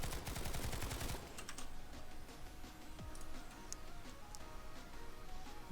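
NSX Tanto carbine in PlanetSide 2 fired from the hip: a fast, dense burst of rapid shots opening the clip, then scattered faint clicks and distant game noise.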